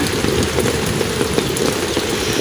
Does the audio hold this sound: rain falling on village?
yes